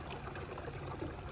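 Garden fountain at night with water trickling and splashing steadily, a soft continuous wash close by with no voices.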